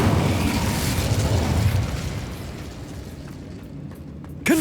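A fire spell cast in the Hogwarts Legacy video game gives a sustained roaring, crackling burst that slowly fades, with a sharp closing hit at the end.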